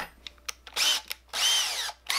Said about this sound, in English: So I'm gonna drill a pretty deep hole